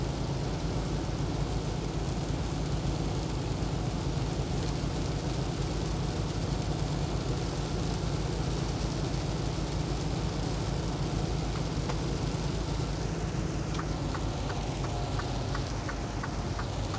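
Heavy rain falls while driving through the Appalachians in West Virginia in winter, a steady hiss of water and road noise with a continuous low rumble inside the vehicle.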